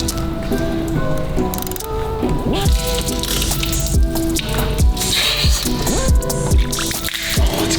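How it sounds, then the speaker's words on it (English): Water squirts and splashes out of a Mercedes-AMG GT engine during disassembly, with a steady close spattering and dripping and several heavier splats at intervals. "Gosh, there's so much water in there."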